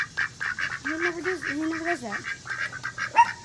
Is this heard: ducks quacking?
yes